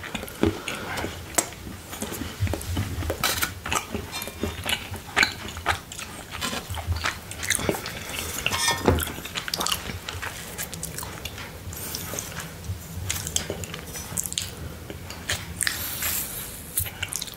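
Close-up biting and crunching of an Easter chocolate bunny, with irregular sharp snaps and crackles mixed with wet chewing and mouth sounds throughout, close to the microphone.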